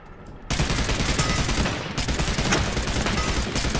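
Rapid pistol shots ring out in the Realm Royale battle royale game, a loud dense string of reports that starts abruptly after a quiet moment and keeps up almost continuously with a brief dip midway.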